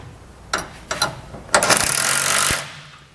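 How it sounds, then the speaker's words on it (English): A 19mm socket wrench tightens bolts on TorkLift tie-downs fitted to a 2015 Ram 3500: two short ratchet clicks, then a fast, loud, continuous ratcheting run for about a second, close up. "We're going to be using a 19mm socket and wrench"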